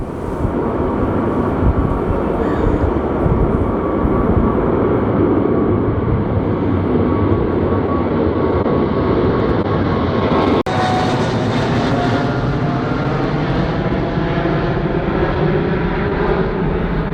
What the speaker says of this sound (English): And down the runway she goes.